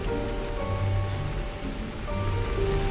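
Steady rain pours down on a surface in a continuous, even hiss, used as a backdrop sound in a spoken horror story, with no voices over it.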